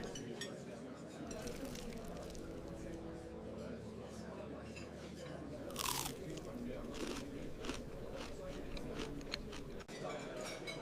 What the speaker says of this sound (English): The toast has this really nice crunch at first, and then the eggs kind of soften everything up